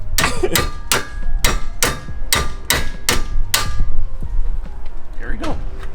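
Nine sharp, ringing hammer blows land in a quick regular series on metal during a Nissan Altima brake change, close up, followed by quieter clinks and shuffling.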